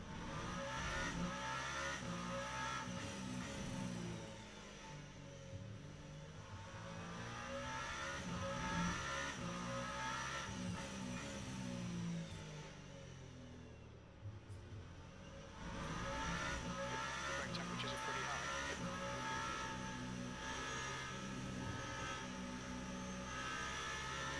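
Muffled race car engine droning and revving in the racing game Le Mans Ultimate at Circuit of the Americas, National layout, rising and falling in pitch as it accelerates and shifts, with no talking.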